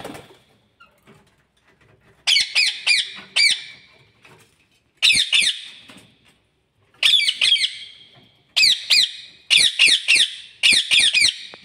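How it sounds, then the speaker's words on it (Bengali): Birds call in the morning around a college, sharp squawking bursts in quick clusters of three or four, repeated every second or two with short quiet gaps between, fairly close and loud. "সকালেই কলেজে এসে শুনতে পাই পাখিদের এই মিষ্টি ডাক।"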